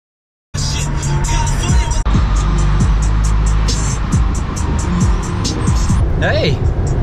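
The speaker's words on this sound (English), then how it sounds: "looks like traffic's starting to speed up" Highway car traffic heard from inside a vehicle on the way to downtown Dallas, Texas, a constant loud road and engine roar with passing cars whooshing by and occasional faint tire noise.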